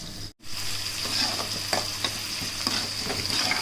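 Two large onions sautéing in a pan until golden for a prawn fry, a continuous close sizzle with periodic spatula scrapes and stirring clicks, a brief gap near the start.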